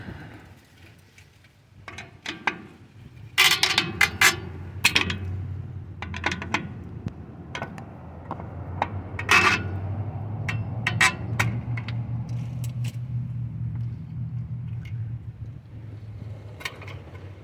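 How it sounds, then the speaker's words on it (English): Drum brakes come apart on a 1964 Ford F100: sharp metallic snaps, clinks and scrapes of springs being popped off, scattered irregularly over a low background hum, fairly close. "So you pop your springs."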